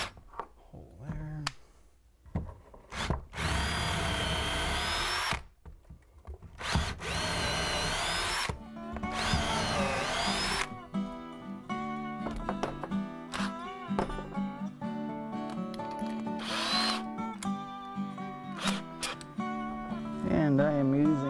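A power drill bores a half-inch hole through a log ceiling beam, running in several loud sustained bursts with pauses and whining speed changes, while someone talks nearby between and over the drilling.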